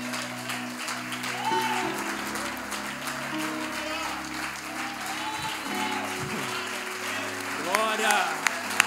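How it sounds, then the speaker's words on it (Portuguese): A church congregation stands and applauds during a worship service, steady clapping running through the whole stretch beneath sustained music and voices, with no single pause. "se coloque de pé aplaudindo ao Senhor"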